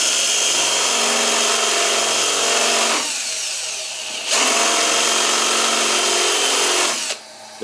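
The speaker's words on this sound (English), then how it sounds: "Whether it'll drill, as I said, drill a blind hole, which means it doesn't go all the way through the wood." A power drill fitted with a reground bit bores a blind hole into wood, running loud and steady, then briefly easing off before spinning back up again.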